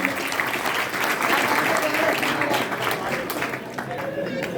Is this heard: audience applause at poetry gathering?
yes